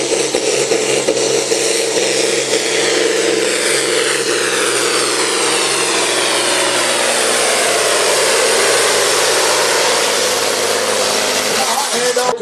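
A tuned pulling tractor in the 3.6-ton supersport class at a Sebaldeburen tractor-pull event in 2013, its engine roaring loud and close, climbing steadily in pitch as it revs toward about 2700 rpm.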